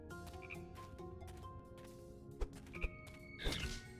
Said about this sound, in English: I thought I saw a frog come down here.